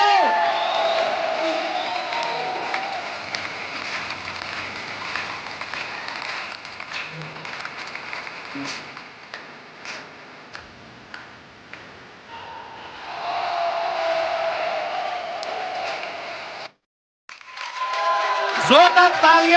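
A television comedy show studio audience cheers and claps loudly for Hardy Sandhu, a sustained roar of applause with whoops across most of the stretch, swelling again near the end, with a host's voice over it.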